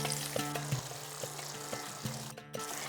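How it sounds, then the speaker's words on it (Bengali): Hot tempering poured into a pan of bata fish, a steady close sizzle and frying hiss with faint tapping, continuous throughout with a brief dip near the end. "ঢাকা খুলে এরপর এই ফোড়নটা এইভাবে দিয়ে দিতে হবে।"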